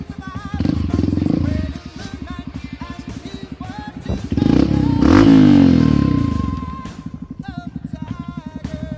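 A trail motorcycle at an Indonesian Independence Day trail ride revs up close, its engine thumping and then rising into a loud roar before settling back to a pulsing idle.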